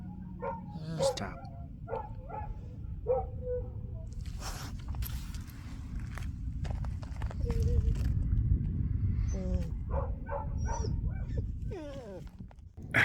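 Dog barking at a campground at night, several short yips and barks spaced through the stretch under steady low outdoor rumble, with some whimpering sounds and faint voices in the background.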